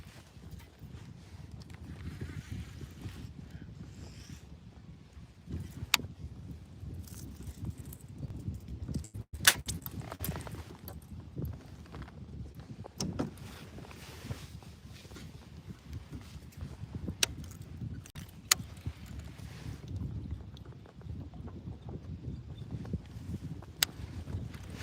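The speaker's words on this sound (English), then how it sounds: "Wind noise pretty bad." Steady low buffeting wind rumbles across a kayak out on the water during a fishing trip, a constant dull roar with occasional sharp knocks and clicks, no voices.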